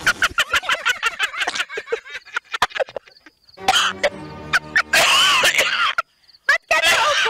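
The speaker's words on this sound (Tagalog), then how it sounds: "Ba't ka naubo?" Short rough coughs break up lively Filipino-language conversation in a comedy sketch, bursting out between lines of dialogue with brief silent gaps.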